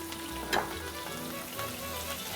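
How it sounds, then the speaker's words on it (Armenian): Chopped onions and spinach fry with salt in a pan, giving a quiet, low sizzle with a few soft stirring scrapes over a couple of seconds. "թողնում ենք ինքը տապակվի մի փոքր, մի 5 րոպե"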